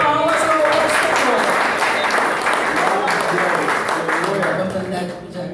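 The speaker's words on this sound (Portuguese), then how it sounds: "E as palmas eu ouço." Church congregation applauding during a worship service, a loud, sustained roar of clapping with voices over it, fading slightly at the end.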